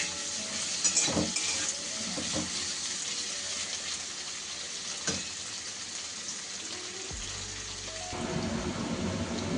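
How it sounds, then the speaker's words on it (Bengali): Potato pieces frying in a pan, a close, continuous sizzle with occasional stirring scrapes and clatters, shifting in tone near the end. "আলুটা একটুখানি ভেজে নেব আগে"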